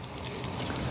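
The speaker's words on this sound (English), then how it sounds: "I'm going to go ahead and water this one more time to make sure that I get good seed contact" Water poured onto soil over freshly sown seeds for winter sowing, a short close splashing trickle that holds steady and grows slightly louder toward the end.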